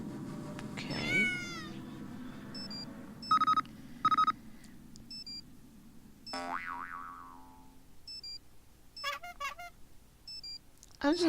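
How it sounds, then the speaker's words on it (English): A bright electronic alarm tone sounds in the game Nancy Drew: Shadow at the Water's Edge as a series of short repeated beeps and chime pulses, mixed with cartoonish boing and meow-like effects, with a person talking in between. "Alarm, this is what you'll wake up to, so pretty standard."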